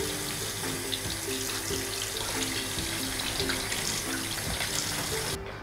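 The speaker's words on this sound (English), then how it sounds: "Rinse under running water and make sure inside the belly is clean." Kitchen tap water runs steadily as a fish is rinsed under the stream, a continuous close splashing hiss that stops abruptly near the end.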